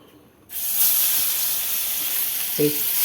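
Dried fish dropped into hot oil for a Kerala banana-leaf lunch bursts into a loud, close, continuous sizzle after a quiet moment, hissing steadily with a small crackle toward the end.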